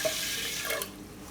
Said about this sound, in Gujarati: આમાં આપણે નાખીએ હું પાણી.